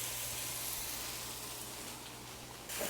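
Pork with a spice rub searing in a hot skillet, a steady close hiss and sizzle holding level for a few seconds with no talking.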